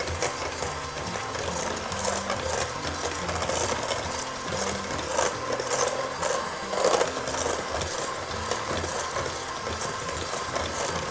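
An electric mixer whips heavy cream with powdered sugar for a dulce de leche cream cheese dessert, giving a steady, loud whirring and rattling drone that runs without a break, with no talking over it.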